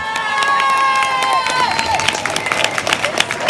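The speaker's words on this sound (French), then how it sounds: "Je vous demande d'applaudir monsieur Lucas Blanche." A live audience at a radio singing contest in Albertville cheers and claps for singer Lucas Blanche, a loud crowd roar with shouts and whistles that holds steady and fades slightly toward the end.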